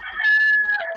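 A rooster gives one short, loud crow close by, heard on its own with no other sound.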